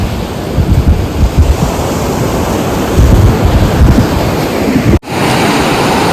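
Steady rush of sea surf breaking on Ganeshgule beach, a dense broadband roar with wind buffeting, briefly cutting out near the end before resuming.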